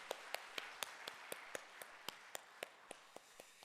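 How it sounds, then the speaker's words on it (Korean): A church congregation welcoming a visiting missionary claps in a steady, even unison rhythm, about fourteen crisp beats, faint and distant. "열렬한 환영의 박수로 맞이하겠습니다."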